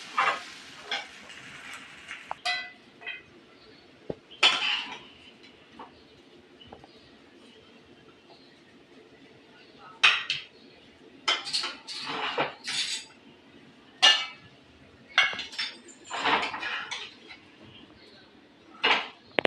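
Cooked poha being served from a pan onto a plate, with scattered clinks and scrapes of a spoon against metal between quiet pauses, and a bird cooing faintly in the background.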